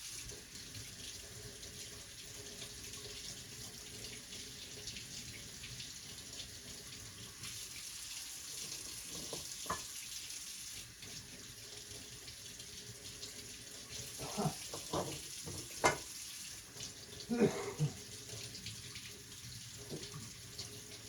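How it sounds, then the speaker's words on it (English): Tap water running steadily into a kitchen sink while eggs are rinsed under it, a continuous hiss with a few brief clinks and knocks near the end. "I'm getting my eggs washed"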